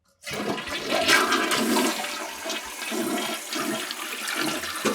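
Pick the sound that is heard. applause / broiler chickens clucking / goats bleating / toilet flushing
toilet flushing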